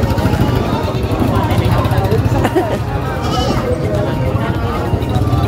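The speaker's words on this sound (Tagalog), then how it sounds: "Maraming dumating ngayong kambing." Goats bleat repeatedly at a goat market amid a noisy crowd, with people talking and a busy market bustle throughout.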